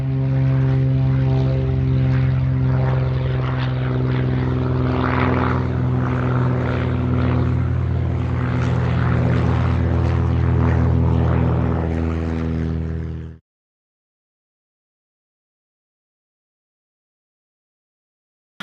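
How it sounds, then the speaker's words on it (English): Sporting airplane with a propeller engine drones loudly and steadily for about thirteen seconds, a strong low harmonic hum with a buzzing edge, then cuts off abruptly into silence. "Sporting airplane."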